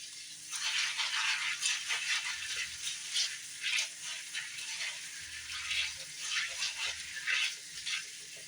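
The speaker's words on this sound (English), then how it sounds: "I'm going to rinse these off" Dry beans being rinsed in a pot under cold running water, a continuous close rush and splash with rattling of beans throughout, fairly quiet and without talking.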